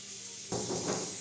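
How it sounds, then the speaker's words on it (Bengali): Potatoes frying in a pan of oil for a fish-head muri ghonto, a soft broadband sizzle that swells abruptly partway through and then holds steady, close and fairly quiet with no voices. "আমার আলুটা প্রায় ভাজা হয়ে গেছে"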